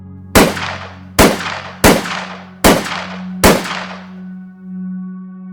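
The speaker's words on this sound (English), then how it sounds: "Armed with a 9mm semi-automatic handgun, the gunman opened fire. Multiple shots rang out in broad daylight." Five sharp 9mm semi-automatic handgun shots ring out one after another at a steady pace, each loud crack leaving a ringing tail, followed by a low sustained tone with no voices.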